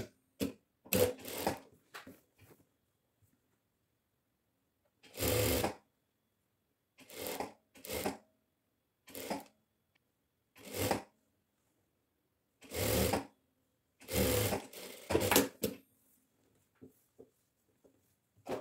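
A sewing machine stitching sleeves onto a chemise dress, running in short whirring bursts of a second or two, separated by silent pauses, close and clear.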